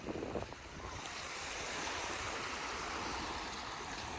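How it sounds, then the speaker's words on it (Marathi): Sea waves roll onto the beach at Malvan in a steady, unbroken roar, with wind buffeting the microphone. "मालवणचा समुद्र किनारा"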